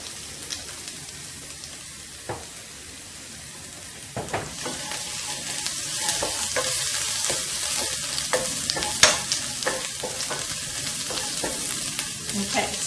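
Spices frying in oil for a prawn and pineapple curry, steady sizzling with occasional stirring scrapes, close up and continuous, no talking.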